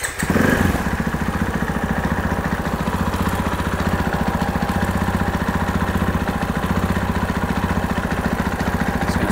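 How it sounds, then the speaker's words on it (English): A KTM four-stroke motorcycle engine catches after a brief start-up burst, then settles into a steady, loud, even idle that thrums rhythmically while warming up, close by and with no talk. "So we'll start this bike now. We'll double check the idle as it's warming up,"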